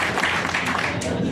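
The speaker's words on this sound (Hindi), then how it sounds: "एक बार जोरदार ताली आप अपने इस प्रयास के लिए लगा दीजिए" A meeting audience gives a burst of hearty clapping, a brief dense patter of many hands close by, with a voice faintly mixed in.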